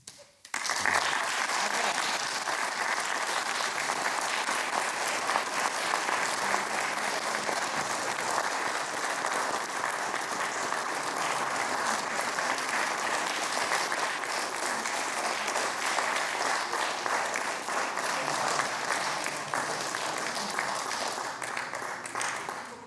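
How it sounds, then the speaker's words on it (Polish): Audience at a patriotic concert breaks into long, loud, steady applause, a dense wall of clapping that continues evenly for over twenty seconds. "tak fajnie jest, jak oklaski są"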